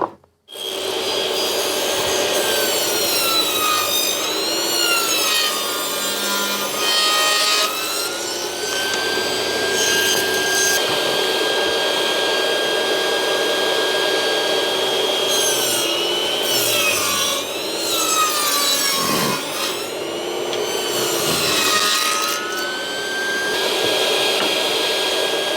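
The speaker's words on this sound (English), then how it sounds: "We'll use that jig to cut out all of our work." A power saw cuts wooden sprocket pieces held in a jig, a loud continuous whining buzz whose pitch rises and falls as the blade loads and frees, with brief dips between cuts.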